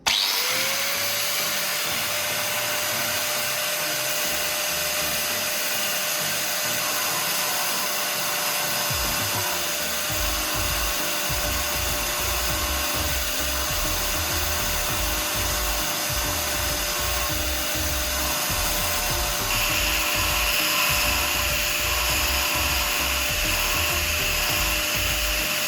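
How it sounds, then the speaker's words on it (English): An angle grinder spins up and whines steadily as it scours rust off metal, a high sustained tone over gritty, uneven scraping that grows rougher as the disc bites into the surface. "I'll use this angle grinder to clean it up"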